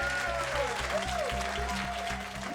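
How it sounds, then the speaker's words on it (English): A crowd applauds with loud, dense, sustained clapping that holds steady throughout, while tones and a repeating low beat play beneath it. "Give him a big round of applause."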